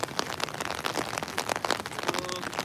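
Raindrops patter in irregular, crackling bursts on a hard surface outdoors, close and fairly loud, with a brief tonal sound near the end.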